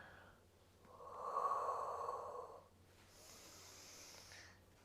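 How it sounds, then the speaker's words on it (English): Deep breaths during a Pilates stretch for menopause relief, a long loud inhale followed by a quieter, airy exhale, close up with no talking. "Deep breath in."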